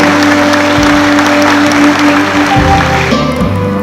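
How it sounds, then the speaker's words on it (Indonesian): At a business outlook conference, the audience applauds loudly while a steady tonal hum, likely background music, runs underneath the dense clapping. "Hadirin sekalian, kita berikan tepuk tangan yang paling meriah"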